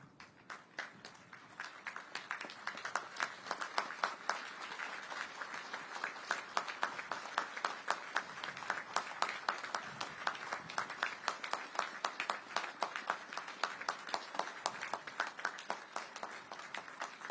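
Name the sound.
audience applauding wounded veterans at commissioning ceremony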